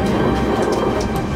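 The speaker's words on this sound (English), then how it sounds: "Train's just left Athens here" A train pulling out of Athens on a rainy day gives a steady, loud rumble and rushing noise throughout, with faint higher rattles over the continuous roar.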